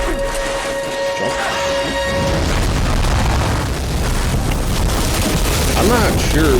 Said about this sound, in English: I'm not sure what was exploding up from that.